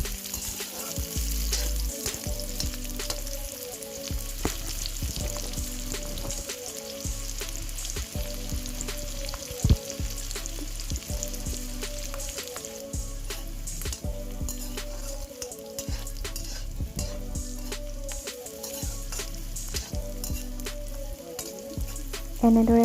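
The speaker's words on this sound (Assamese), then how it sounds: "পিঁয়াজখিনি অলপ ৰঙা হোৱাকৈ ভাজিব লাগিব।" Chopped onions fry in hot oil in a wok, giving a steady, close sizzle with regular scraping and stirring strokes, while music plays faintly underneath.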